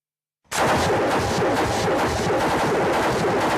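A machine gun fires during weapons testing at the Mayak plant: a sudden loud continuous burst after a moment of silence, dense rapid shots close and sustained to the end.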